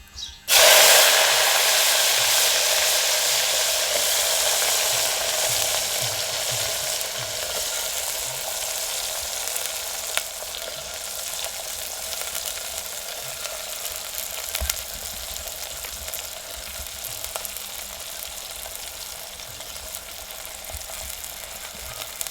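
Tindora (ivy gourd) dropped into hot oil with mustard seeds and cumin, an abrupt loud burst of sizzling that settles into a steady, dense frying hiss lasting a long while, close and without speech.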